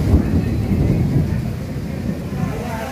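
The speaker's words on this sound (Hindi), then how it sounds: "बहुत तेज कड़क रहा है।" Loud thunder during a storm: a deep, continuous rumble that rolls on throughout, with faint voices in the background.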